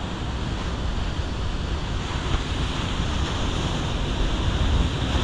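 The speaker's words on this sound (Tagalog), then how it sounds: "Ano, lakas ng alon, no." Strong ocean surf roars continuously, a broad rushing wash with wind buffeting the microphone, no talking.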